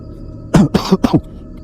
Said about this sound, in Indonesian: Batuk lagi, aduh.